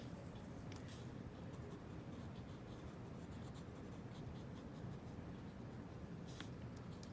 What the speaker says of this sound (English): And there's usually lines that come up, and I'm just, again, sketching them out.